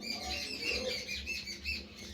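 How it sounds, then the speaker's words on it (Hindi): Birds squawk and chirp repeatedly at a moderate distance, their calls overlapping in an irregular, continuous chatter with no one speaking. "आपको चिड़ियाओं की आवाज़ आ रही होगी,"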